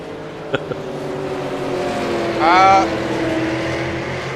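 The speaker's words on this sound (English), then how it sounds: "I'm wondering if the car sounds are louder than my voice like they have been in the past." Super late model race car engines from the iRacing game at North Wilkesboro drone steadily throughout, swelling into a louder rising whine midway before settling back to a continuous hum, with a couple of brief knocks near the start.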